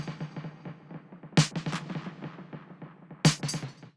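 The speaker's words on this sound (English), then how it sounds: "the first one is the echo delay from Ableton" Ableton echo delay fed with distortion, heavy feedback and reverb on a fast 16th-note setting, giving dense repeating echoes punctuated by two sharp, loud booming hits.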